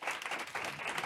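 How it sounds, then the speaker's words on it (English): A brief burst of live audience applause at a women-in-leadership conference panel, dense clapping that stays steady for about a second. "Let's give him a round of applause."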